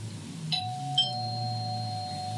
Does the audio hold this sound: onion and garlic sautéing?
no